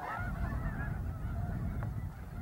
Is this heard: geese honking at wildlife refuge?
yes